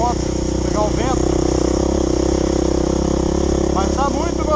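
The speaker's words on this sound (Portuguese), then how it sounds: "pra dar uma esfriada no motor da moto" Dirt bike motorcycle engine at an enduro trail ride on a slick, muddy trail, running steadily and loud up close with a constant drone, while someone talks over it.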